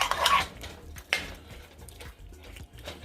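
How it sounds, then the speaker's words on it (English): A spoon scrapes and clinks against a pot of beef stew while it is stirred, with a sharp metallic knock near the start and softer scraping and stirring sounds after it. "Here I'm gonna give it a quick stir and ensure that nothing is sticking to the bottom of the pot."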